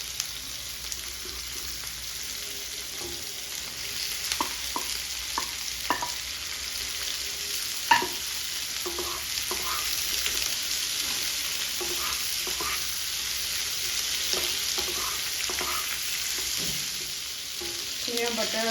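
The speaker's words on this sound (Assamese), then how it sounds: "এতিয়া মাছৰুমখিনি অকণমান চল্টি কৰি ল'ম।" Mushrooms sauté in butter in a pan with a steady, hissing sizzle throughout, punctuated by repeated light scrapes and taps of stirring, close and continuous.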